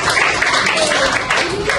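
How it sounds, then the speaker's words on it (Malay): Classmates give a student a short round of applause in a classroom setting. The clapping is dense and continuous, lasting under two seconds, with some voices mixed in. "tepuk tangan kat Syazah"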